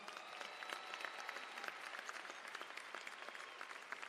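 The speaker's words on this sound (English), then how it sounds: "Let's give him a round of applause." A crowd applauding at a 2022 undergraduate commencement ceremony, honoring a graduate: continuous, even clapping from a large audience, fairly distant and soft, with no speech over it.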